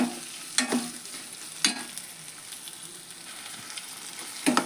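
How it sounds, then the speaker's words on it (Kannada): Potato gravy frying in oil in a pan, giving a steady low sizzle with a few sharper clatters of stirring at intervals; no voices. "ನೋಡ್ರಿ, ಇದು ಫ್ರೈ ಆಗ್ತಿದೆ ಎಣ್ಣೆ ಒಳಗೆ."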